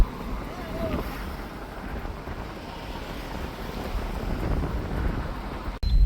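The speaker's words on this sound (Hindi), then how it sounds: "इतना बढ़िया हवा चल रहा है ना भी।" Outdoors in the early morning, steady wind roars and buffets the microphone, a continuous rough rush with no other clear sounds, ending in a sharp thump.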